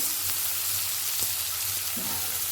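Finely chopped onion frying in hot oil with a pinch of garam masala for Bengali katla fish kaliya, a steady close hiss of sizzling that runs without a break and without voices.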